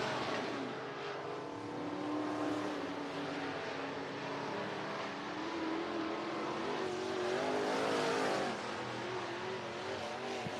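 Sport Mod race cars qualifying at Cottage Grove Speedway roar steadily around the oval, a continuous loud blend of engines with rising and falling revs as cars pass, swelling near the end.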